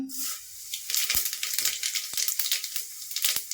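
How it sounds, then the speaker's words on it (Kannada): Spoonfuls of cumin and mustard seeds hit hot oil for tempering, bursting into a loud, close sizzle with rapid crackling pops and sharp snaps scattered over a continuous hiss. "ಇವಾಗ ಎಣ್ಣೆ ಕಾದಿದೆ ಒಂದು ಸ್ಪೂನ್ ಜೀರಿಗೆ ಒಂದು ಸ್ಪೂನ್ ಸಾಸಿವೆ ಹಾಕೊತಾ ಇದ್ದೀನಿ"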